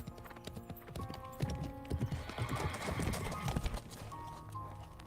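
Horse hooves clip-clopping across a flower field in the video game Love and Deepspace, rhythmic and fairly close over soft background music, with a brief whinny.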